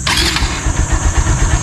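A Honda Supremo motorcycle fires up with an electric start: a short whirring crank, then the engine catches into a loud, close, lumpy idle with a steady low throb.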